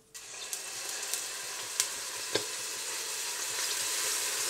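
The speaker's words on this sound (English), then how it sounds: "So fry the onions." Onions for a Moroccan lamb tagine hit a hot pan and start frying, a steady hiss rising from quiet with a few sharp spatula clicks early on, then settling into an even sizzle.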